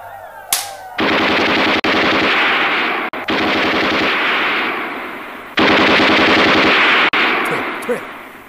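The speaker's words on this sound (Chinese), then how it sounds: "机枪准备。" A machine gun fires into the air in a 1959 war film, with long, loud, sustained bursts of rapid automatic fire and only brief breaks between them, close and overwhelming.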